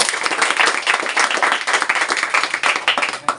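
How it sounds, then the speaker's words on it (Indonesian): A classroom of students claps together after an arts lesson on traditional Balinese music, close, loud and continuous with a choppy uneven rhythm. "Oke, tepuk tangan ya."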